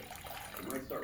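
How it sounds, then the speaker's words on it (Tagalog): Water poured from a container into fresh milk in a pot set to boil in a countryside kitchen: a short, steady splashing pour that swells toward the end. "At maglalagay tayo ng tubig."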